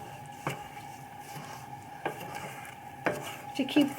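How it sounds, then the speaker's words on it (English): A wooden spoon scrapes and knocks around a pot of cooking butterscotch hard candy, a few distinct taps and scrapes against the pot over a low steady background hum. "I always stir from the outside in"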